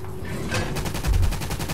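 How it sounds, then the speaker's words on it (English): Rapid in-game machine gun fire from a mounted gun in Toy Soldiers: Cold War, a dense burst of repeated shots rattling steadily through the whole moment, loud and close with no talk. "let's start off by getting on this machine gun"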